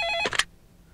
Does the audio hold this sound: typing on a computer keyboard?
no